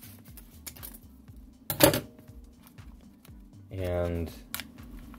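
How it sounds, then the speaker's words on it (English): Scissors cut open a vacuum-packed brick of Cafe Bustelo coffee, giving one brief, crisp crinkling snip of foil packaging close by. Someone talks shortly afterward over a faint, steady background hum. "Next thing you do is you cut open your Cafe Bustelo"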